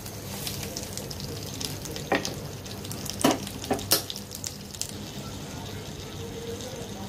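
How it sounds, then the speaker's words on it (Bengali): Tengra fish curry cooking in a pan, a low steady bubbling sizzle broken by a handful of sharp clinks and scrapes of a spoon, close and fairly quiet, with no talking. "বলক চলে আসছে, এখন ধনিয়া পাতা দিয়ে দিব"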